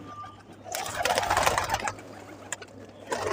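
A female pigeon gives a soft, throaty burst of cooing in the middle, then a few brief calls follow against a quiet hum, with no clear talk.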